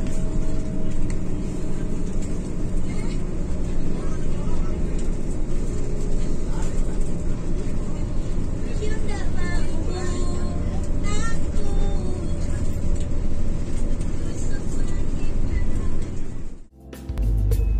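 A tourism bus on a road test runs at high speed down a gently sloping road, its engine and road roar loud and steady throughout before cutting off abruptly near the end, with talking over it.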